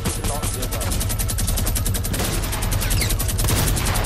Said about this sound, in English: He's just shooting everywhere.